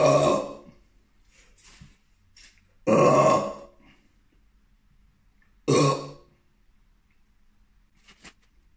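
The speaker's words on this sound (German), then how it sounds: "Irgendein Rülpser kündigt sich gerade an." Three loud, drawn-out burps from a person eating tantuni, each about a second long and separated by quiet pauses, with faint small mouth sounds in between.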